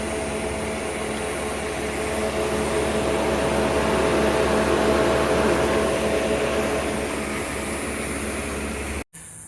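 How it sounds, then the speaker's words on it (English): A 1994 Mercedes-Benz SL320 (R129) idles with a steady, continuous engine drone and broadband hum, close and constant throughout, cutting off abruptly near the end. "Here's the car with the engine running."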